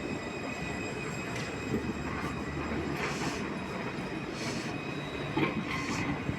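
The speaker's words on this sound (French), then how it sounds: "Voilà, le tramway." A tram rolling along its rails at a terminus, a steady broadband rumble with high whining tones and occasional brief squeals, fairly close and continuous with no talk.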